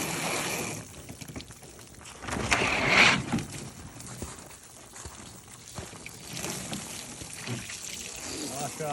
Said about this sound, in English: Flush it all off, Davey.